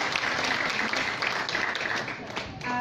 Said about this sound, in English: So please join me in applauding Justine and Sheila.